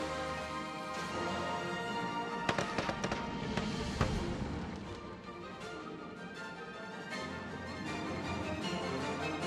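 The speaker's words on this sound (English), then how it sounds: "there's 30 seconds of fireworks" A fireworks show in the Planet Coaster theme park game, with rapid popping bursts and crackles over continuous music, dense in the middle and steady throughout.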